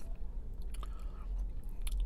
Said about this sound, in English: finishes with a massive crunch